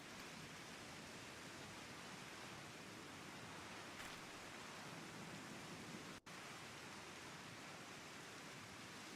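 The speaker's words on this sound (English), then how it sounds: "It's raining." Steady, even rain falls in the Final Fantasy XIV world, a quiet continuous hiss with no voices over it.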